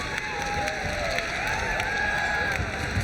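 A loud arena crowd roars and cheers steadily throughout a ONE Championship bout featuring Cambodian fighter Chan Rothana, with whistles and whoops rising above a dense, continuous wall of noise.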